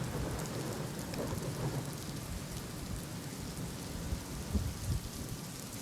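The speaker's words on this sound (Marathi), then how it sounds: "धरण परिसरात पावसाचा जोर कायम आहे" Heavy rain pours steadily over a dam area, a dense continuous hiss with low thunder rumbling underneath, fairly faint and without voices.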